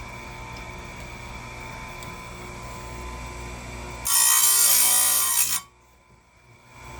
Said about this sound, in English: I'll be able to tell as soon as it's not going to grind anymore.